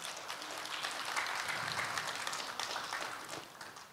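Audience applause at a Sangju poetry recital event, a steady wash of many hands clapping at moderate level throughout, fairly distant and without speech.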